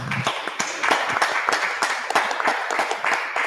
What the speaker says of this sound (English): So if everyone could put their hands together,